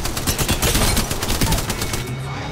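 Rapid automatic gunfire in a video game, dense bursts of shots loud and close for a couple of seconds before trailing off.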